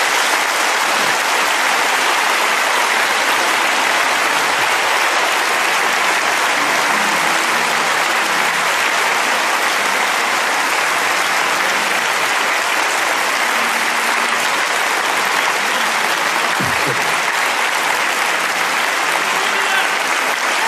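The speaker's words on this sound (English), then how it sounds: "Give them a hand clap as they come." Sustained applause from a church congregation during a sermon's altar call, a dense, steady roar of clapping lasting throughout, loud and full with no break.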